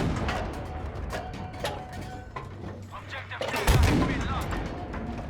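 Tank cannon firing in Battlefield V, a Sherman and Tiger tank battle: one heavy, loud boom strikes near the end and rumbles over a steady backdrop of engine drone and distant gunfire, with a voice talking throughout.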